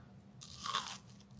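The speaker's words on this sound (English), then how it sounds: "That was a nice crunchy bite." A crunchy bite into a fried fritter, served alongside date butter rolls, gives one crisp, close crackle lasting about half a second over a quiet room.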